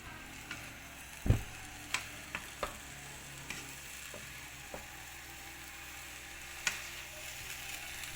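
Omelette pieces stir-fried into egg fried rice in a pan, with a faint steady sizzle and a series of sharp spatula scrapes and clacks against the metal at irregular intervals.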